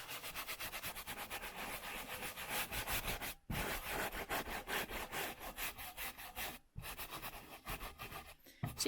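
Paint residue being scrubbed off a wooden stencil, a close, rapid back-and-forth rasping rub in steady strokes with two brief pauses, no voices.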